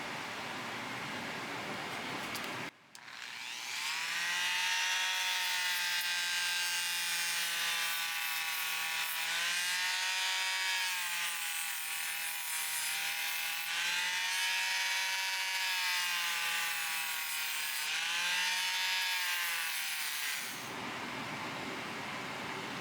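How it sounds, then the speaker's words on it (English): Vintage Boker needle nose pliers sanded with a 240 grit disc on a rotary tool, a steady high motor whine with wavering harmonics running for about seventeen seconds close up, starting and stopping abruptly. "I'm going to start with the 240 grit disc on this side"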